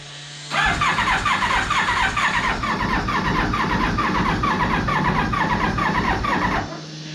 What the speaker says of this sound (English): now when we put the start button, we actually get our starter. So we're going to turn the choke on here